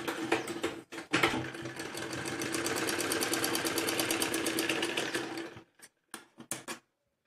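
A sewing machine stitches a fabric strip onto a baby frock in one long, fast, even whirring run, then stops and gives a few short bursts before falling silent.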